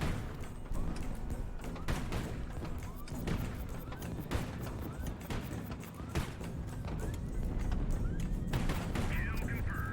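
Missile launches and impacts in the naval strategy game High Fleet, a dense stream of rapid bursts, thuds and crashes over a continuous low rumble, with someone talking over the battle.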